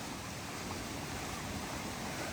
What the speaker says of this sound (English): that water is rushing